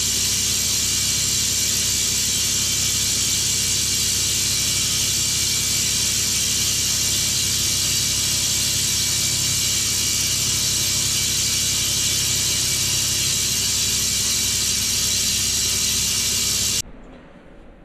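A powder coating gun sprays powder onto wheels, giving a loud, continuous hissing rush with a steady mechanical hum beneath that runs unbroken and then cuts off abruptly near the end.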